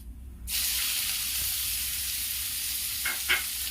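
Onions tipped into a hot pan as part of a Holi festival thali, with a sharp rush of sizzling that jumps in and then holds as a loud, steady hiss, with a couple of brief stirring clinks near the end.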